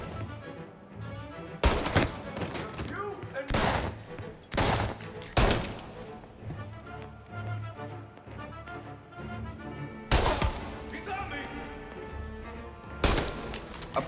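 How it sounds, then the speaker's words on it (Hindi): Gunfire in the video game Mafia, several sharp, loud shots fired in separate bursts over a background of in-game music and ambience. "अब पता नहीं इसे मारने के लिए कितनी गोलियां लगेगी।"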